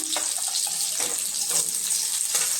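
Chopped onion sizzles in hot oil for a homemade chicken chilli, a steady bright hiss with faint crackles and light stirring throughout.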